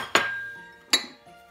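Two sharp glassy clinks about three-quarters of a second apart as chopped apple pieces drop into a glass pitcher while making a Christmas fruit juice, each ringing briefly before fading, with no talk.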